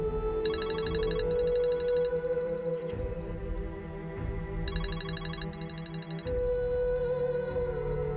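A phone rings in a repeating electronic ringtone pattern, two bursts of tones over a steady musical background, with no talking.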